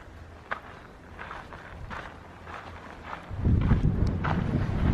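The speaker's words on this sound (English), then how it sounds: "Oh, feel the wind." Wind gusts across the open mountain trail of the Pacific Crest Trail on Mount Hood, rising into a loud, low buffeting rush against the microphone in the second half, with faint footsteps underneath.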